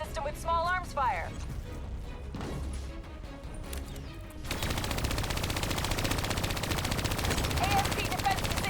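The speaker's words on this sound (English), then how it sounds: "Hit it with an RPG before it reactivates. With small arms fire." Small arms gunfire in the Call of Duty Black Ops 3 video game, rapid dense bursts that swell into a loud continuous barrage in the second half, mixed with game sound effects and radio voices.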